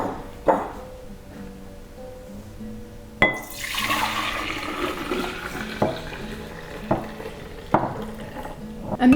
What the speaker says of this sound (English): we're going to pour the formula into a glass jar